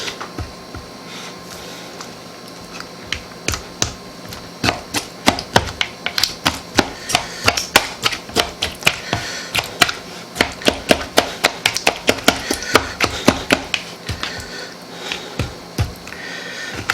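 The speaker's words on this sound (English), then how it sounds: "we're just going to take the spatula and use it to break up these apples a little bit" A spatula repeatedly taps and chops through apples in a pan for mini apple pies, giving quick, sharp, irregular knocks that cluster into busy bursts, fairly close and clear with no talking.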